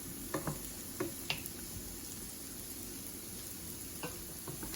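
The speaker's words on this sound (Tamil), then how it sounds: "இதை தனியாக இப்போ கொஞ்சம் வதங்கட்டு நல்லா ஒரு 10 மினிட்ஸ் கிட்ட நல்லா வதங்க விடணும்." Onions sautéing in sesame oil for a Sri Lankan potato and eggplant fry hiss quietly and continuously, broken by a handful of faint clicks and taps from the spatula.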